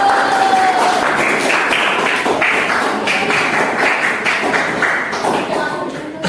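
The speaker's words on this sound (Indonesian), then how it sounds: "Tepuk tangan." A classroom group claps steadily and densely for several seconds, close and fairly loud, with some thumping under the applause.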